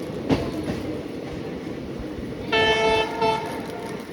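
A passenger train departing a station on the Hosapete–Davanagere–Harihara route: steady rolling rumble of rail cars, with a tonal horn-like blare joining partway through, no talk.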